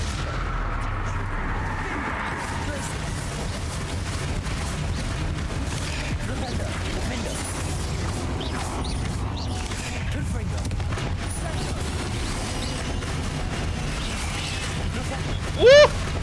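Confringo fire-spell blasts in Hogwarts Legacy boom repeatedly through a dense, continuous stretch of crackling combat noise, with a voice talking over the fighting.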